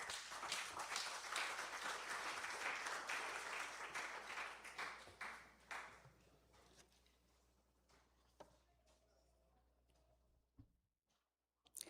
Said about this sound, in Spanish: Fuertes palmas para ella, por favor.